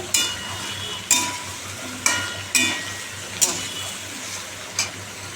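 Bottle gourd and potato curry frying with panch phoron, kalonji and green chillies, a constant soft sizzle punctuated by about six evenly spaced scraping stirs of a spatula against the pan, with a quiet voice now and then beneath.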